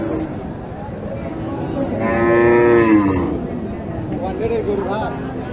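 A large cow lets out one long, loud moo at Mataji cattle market in Naogaon, where Sahiwal and Gir heifers are sold, with crowd babble and nearby talk around it.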